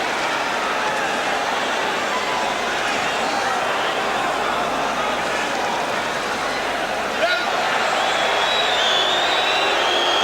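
Boxing crowd at ringside for Roberto Duran vs Davey Moore, 1983, a steady loud roar and murmur filling the arena with a brief spike of reaction, voices mixed throughout.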